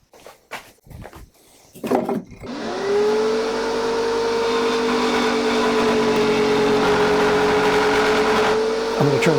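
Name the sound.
table-mounted jigsaw running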